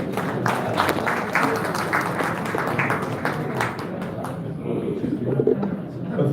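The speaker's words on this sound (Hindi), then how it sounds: "आप सबकी भरपूर तालियों में डॉक्टर" Audience applause at a mushaira poetry gathering, a dense wash of clapping that holds steady for several seconds, with some talk and crowd noise mixed in.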